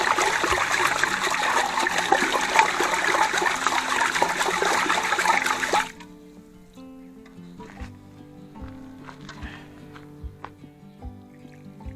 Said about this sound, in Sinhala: හාල් ටික මේ විදිහට සෝදාගෙන